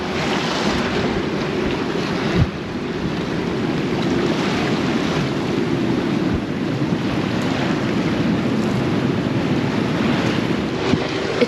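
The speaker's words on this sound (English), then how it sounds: "It's a windy, squally day, and Dan and I have anchored Gecko" Wind and waves around a sailboat anchored in the lee of a reef in Vanuatu on a windy, squally day: constant loud rushing wind buffeting the microphone over washing surf, with a few faint knocks.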